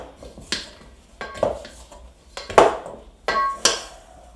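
A dough scraper knocking and scraping on a kitchen work surface while making sourdough English muffins, with four or five sharp clattering taps spaced about a second apart, close and fairly loud, no voices.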